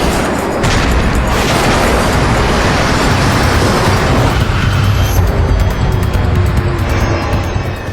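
Bomb going off in the cargo hold of a Metrojet airliner at cruising altitude over Egypt, rendered as a sustained low roaring rumble that stays loud and steady, then starts to fade near the end.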